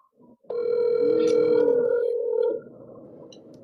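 An outgoing phone call rings out unanswered: one loud, sustained electronic ring tone for about two seconds, then a quieter murmur of background noise.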